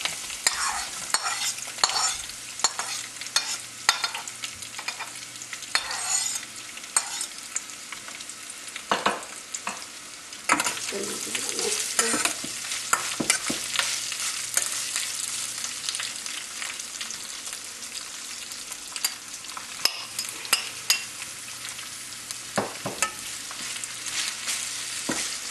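Sliced onions and curry leaves frying in hot oil for seeni sambol, a steady close sizzle broken by frequent scraping stirs and clacks of the spoon on the pan, with no talking throughout.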